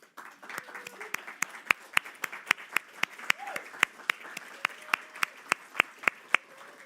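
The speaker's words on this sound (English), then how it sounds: "would you please stand so that now we can applaud you?" A small audience at a humanities and culture institute gathering applauds standing committee members with sparse, distinct individual claps in an uneven but steady rhythm, fairly light and close.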